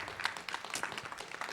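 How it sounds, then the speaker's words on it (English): An audience at a panel event applauds, a moderately loud scatter of individual claps merging into a continuous patter that holds steady throughout. "make a good round of applause for our mothers of the movement and our families of the movement"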